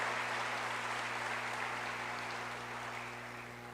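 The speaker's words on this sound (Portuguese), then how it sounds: "Você pode dar um aplauso em nome de Jesus" Applause from a church congregation during a sermon fills the space steadily as a dense, loud clatter of many hands, with no voices over it, and it fades slightly toward the end.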